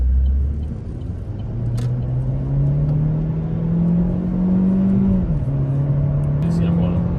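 A 2019 Chevy Cruze accelerating hard, its engine drone rising steadily in pitch through the run with a brief dip like a gear shift near the end, heard from inside the car over constant road rumble.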